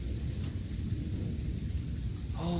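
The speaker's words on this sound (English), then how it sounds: "It's starting to rain again." Steady rain falling during a late-night thunderstorm with near-constant cloud-to-cloud lightning, a dense hiss with low rumbling thunder underneath, and a voice briefly starting at the very end.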